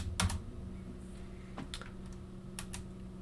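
A few sparse keystrokes on a computer keyboard while entering a Cisco OSPF configuration command. The clicks come as short, close taps in small clusters over a quiet, steady background hum.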